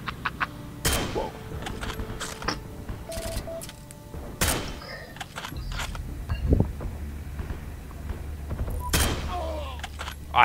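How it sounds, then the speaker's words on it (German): Sharp, loud Karabiner 98 rifle shots in Heroes & Generals ring out singly at irregular intervals, each with a crisp crack and short tail, mixed with mechanical bolt clicks and distant battle noise. "Alter, das sind krasse Schüsse mit dem Ding."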